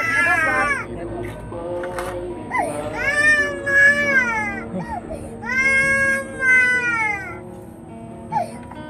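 A child cries from a room inside a poor family's shack-like home, with several long, rising and falling wails in close succession, fairly near and loud, and faint background sounds between them.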